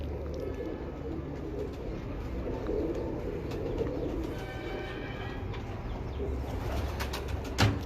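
Pigeons coo in a steady low murmur on a rooftop, a continuous warbling bed with faint distant rumble beneath and occasional brief clicks and chirps.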